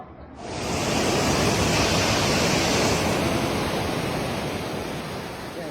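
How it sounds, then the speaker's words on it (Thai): A flash flood in a village in Oudomxay, Laos, roars as a loud, continuous broadband rush of water, steady throughout with no voices. "ท่านผู้ชมจากภาพที่ท่านผู้ชมได้เห็นในตอนนี้แมนเหตุการณ์น้ำไหลท่วมสุกระทันหัน"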